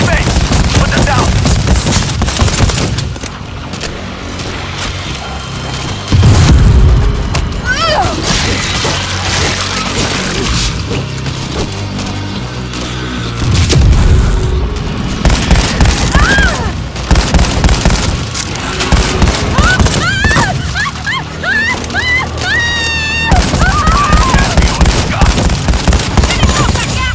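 Loud, dense battle from the video game World War Z, with rapid bursts of gunfire, heavy booms from frag grenade explosions and crashing impacts, while character voices shout over the din.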